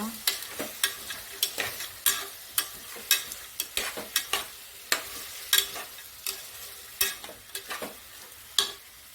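Green peas for veg pulao fry in a pan with a soft sizzle, punctuated by sharp, regular scrapes of a spatula stirring them, each stroke clear and close, with no talking.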